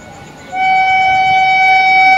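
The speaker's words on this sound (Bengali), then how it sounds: "125 কিলোমিটার প্লাস স্পিড নিয়ে আসছে Ajmer Sealdah express, lead by WAP7 engine" An Ajmer–Sealdah express led by a WAP7 electric locomotive runs past at over 125 km/h, with a loud sustained multi-tone horn blaring in close range and a steady rumbling wheel roar underneath.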